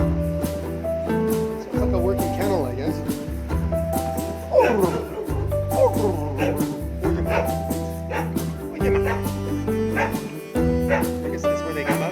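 Several dogs at a working kennel on Koh Samui barking and yipping loudly and close, overlapping in repeated bursts with some whimpering between them.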